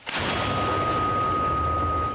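A single heavy mortar shot booms at the start, followed by a long rumbling echo that fades slowly, from a mortar crew firing in combat.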